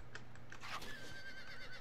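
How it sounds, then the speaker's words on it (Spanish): A horse in the video game Conan Exiles gives a brief, faint whinny with a rising then falling pitch, set over a quiet, steady background hum. "me está dañando el caballo bastante"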